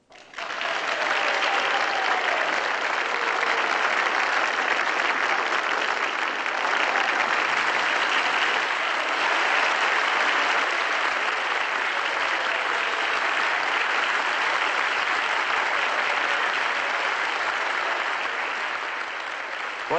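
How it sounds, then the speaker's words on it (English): A crowded hall bursts into loud, sustained applause, a dense wash of many hands clapping that starts abruptly and keeps going at a steady level for about twenty seconds. "What are you clapping for?"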